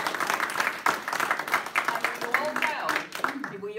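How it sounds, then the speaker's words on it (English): Applause from the audience at a community meeting, a burst of clapping with uneven sharp claps, and a voice speaking over it as it tapers off. "please give them a round of applause"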